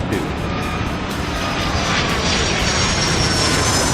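A jet airliner in the airport game Airport Madness 3 gains speed on its takeoff roll, a steady, loud engine roar with a rising whine that holds without a break.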